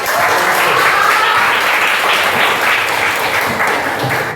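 Classroom applause from a group of Islamic religious education pupils, loud and sustained dense clapping that fills the whole stretch without a break before trailing off at the end.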